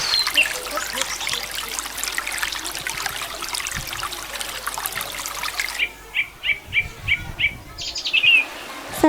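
Trickling river water plays as a sound effect in a children's school musical drama, a continuous soft splashing that cuts off partway through, followed by a few sharp, repeated bird chirps and tweets.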